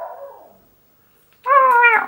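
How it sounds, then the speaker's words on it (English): A neighbour's dog gives a short whining cry, then after a pause a louder, drawn-out bark or yelp that is close and clear, with no talking. "That's my neighbor's dog and it kills me every day."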